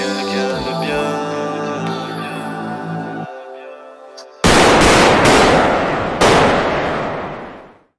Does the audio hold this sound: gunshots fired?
yes